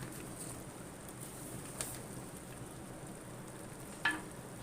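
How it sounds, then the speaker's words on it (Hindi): Grated carrot halwa roasting in ghee in a pan, a faint, steady sizzle with soft scraping and a couple of brief clinks of a utensil. "और हलवे को भून लूंगी अच्छे से जब तक घी अलग ना हो जाए।"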